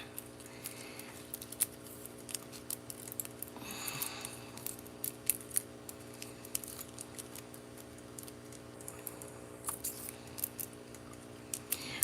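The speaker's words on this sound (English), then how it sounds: "So that means I have to cut up the middle of these." Scissors make quiet, repeated snips while cutting up the middle of material for a journal, over a low steady background hum.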